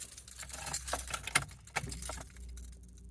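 Keys for a 1997 Honda Civic jangle and clink as they are handled inside the car, a few close metallic rattles and chinks over a low, steady background hum.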